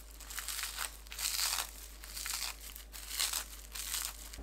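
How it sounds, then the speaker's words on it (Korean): Crinkly, papery crackling of seasoned laver sheets being torn by hand into a cabbage salad, close up and quiet, in several short bursts over a few seconds with no one speaking. "조미김을 찢어 넣어주세요."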